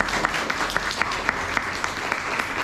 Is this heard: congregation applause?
yes